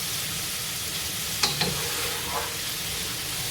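Onion, green chilli and ginger sauté for a Kerala chicken curry, giving a soft, even sizzle with a couple of brief utensil clinks against the pan.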